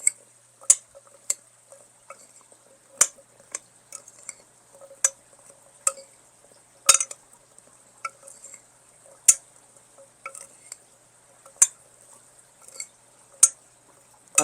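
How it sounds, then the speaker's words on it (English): Seasoning being stirred in a pan on a stovetop, sounding as sharp, intermittent taps and scrapes of a utensil against the pan, spaced irregularly across the clip, fairly quiet with no talking. "And let's give this a stir."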